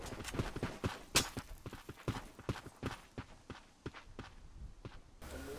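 Horse hooves clip-clop in a video game, a run of sharp, uneven hoof strikes close by, loud at first and then gradually softer.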